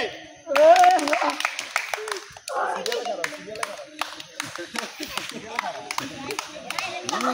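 A group of people claps hands together in a quick burst of overlapping claps, fairly near, with voices and chatter mixed in throughout.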